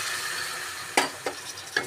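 Tamarind juice sizzling in an onion curry in a pan, a steady hiss broken by three quick stirring scrapes, close and moderately loud, no speech.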